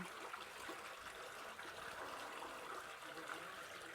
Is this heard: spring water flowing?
yes